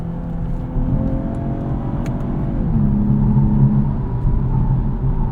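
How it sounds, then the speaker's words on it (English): A 2023 Lexus IS 350 F Sport AWD in Sport Plus manual mode on an entrance ramp, its engine droning steadily, then pitch drops and rises again after a downshift into second, with no talk over it. "We'll downshift into second here"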